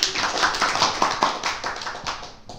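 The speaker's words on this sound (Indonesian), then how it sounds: "Tepuk tangan dong" Audience clapping at an Indonesian talk session on interviewing and reporting, a short burst of close, uneven hand claps from a small group that tapers off within a few seconds.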